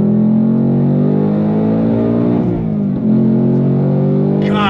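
A 2024 Ford Mustang Dark Horse V8 blips its revs during an automatic rev-matched downshift, a loud close rumbling engine note that swells briefly mid-clip and then settles back.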